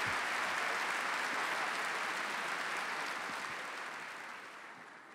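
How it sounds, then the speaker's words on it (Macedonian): Sustained applause from an awards ceremony audience for artists, a dense, even wash of clapping that slowly fades toward the end. "Уште еден аплауз да ги испратиме овие наши уметници."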